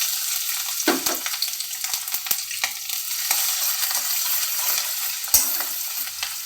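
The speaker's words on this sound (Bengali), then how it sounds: "এই তেলের মধ্যে আমি কুচনো আদা আর রসুনের দিয়ে দেব।" Chopped ginger and garlic frying in hot oil in a kadai, a bright, steady sizzle with a few stirring scrapes and clicks from a utensil, close and clear with no voices.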